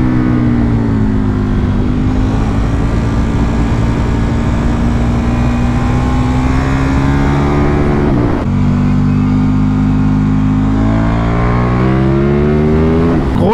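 A KTM Super Duke 1290 R motorcycle engine, heard while riding, drones loudly and steadily with a rising pitch, dips briefly as the rider shifts gear, then climbs again, close and continuous throughout.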